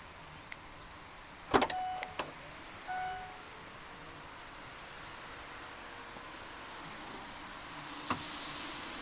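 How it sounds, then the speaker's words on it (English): Powered rear hatch on a Mercedes-Benz GLK 220 CDI opening: a click and latch release followed by a low, quiet motor whir as the hatch rises, then a faint final clunk, heard close and alone. "There are three ways to open up the powered rear hatch in the GLK."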